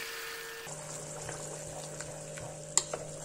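Hot water poured into a pan of rice frying for chicken Topkapı, a steady pouring hiss that drops into a continuous sizzle and bubble with a couple of sharp spoon clinks near the end, close up with no voices.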